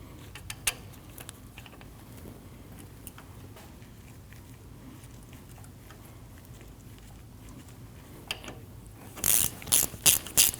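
Ratchet tightening a rear brake caliper bolt with crush washers on a 2012-2021 Nissan NV2500, a quiet close burst of quick clicking strokes near the end after a faint workshop hush.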